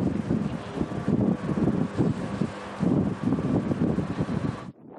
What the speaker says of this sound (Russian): В Златоусте уже сегодня не только снег, но и сильный ветер.